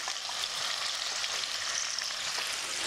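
Potatoes fry in a pan for stuffed bhindi, a dense, even sizzle with faint stirring scrapes, close and continuous with no talking.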